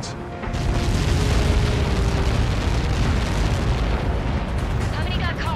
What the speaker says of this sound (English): Somebody got caught in that explosion.